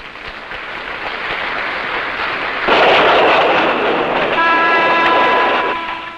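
A guarded train on the Rangoon to Mandalay line rumbles past, a loud steady roar of wheels and carriages that swells partway through as a horn-like tone sounds for a couple of seconds.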